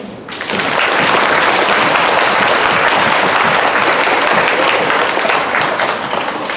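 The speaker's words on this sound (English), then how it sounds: "Let's give one more round of applause for the band." Sustained, loud applause from a crowd at a fifth grade winter concert, steady clapping for the band that builds quickly and holds without pause.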